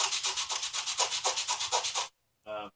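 Sandpaper rubbing rapidly back and forth along a freshly cut wood plank edge, a steady string of loud, close strokes before a brief silence and one last rub.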